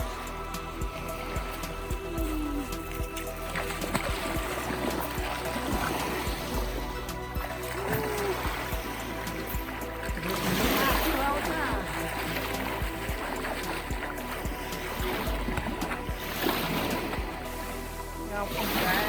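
A person wading into the salty water of the Dead Sea, with continuous splashing and lapping water up close and steady background noise, while people talk over it.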